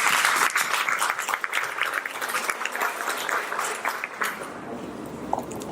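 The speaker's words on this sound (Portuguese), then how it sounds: "Então, palmas para vocês." A crowd claps steadily, dense and sustained, fading slightly toward the end.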